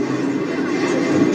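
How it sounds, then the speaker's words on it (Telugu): A train rocks and rumbles as a powerful earthquake shakes it, giving a steady, loud, broadband roar with no clear breaks. "భూకంపం దాటికి ట్రైన్ ఇట్లా"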